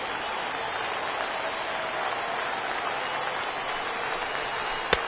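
A thin spring training baseball crowd at a Tigers–Pirates afternoon game applauds and cheers in a steady, distant wash of clapping that lasts the whole stretch, with no voices up close.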